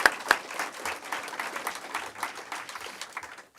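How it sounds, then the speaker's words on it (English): Applause for a musician after a spiritual gathering, moderately quiet, steady clapping from a modest crowd heard from a little distance, with a couple of sharper claps near the start and a gentle fade at the end. "let's give him a round of applause for the music today"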